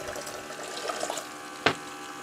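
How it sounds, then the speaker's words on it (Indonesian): An automatic water pump fills a container, heard as a faint, continuous trickle and rush of water with a brief splash near the end, quiet and close without speech. "Ya, pompanya otomatis bekerja."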